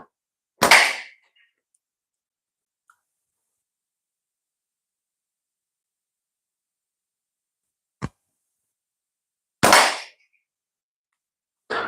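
Slingshot shots in a small, quiet indoor space: three sharp, loud cracks spaced several seconds apart, each with a short echoing tail, plus a faint tick and silence between.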